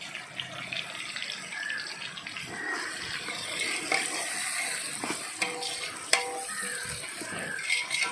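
Onions and green chilies fry in a pan over a hot outdoor farm cooking fire for mutton dum biryani, giving a steady sizzle broken by stirring scrapes and a sharp clank near the end.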